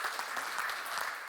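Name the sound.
audience applause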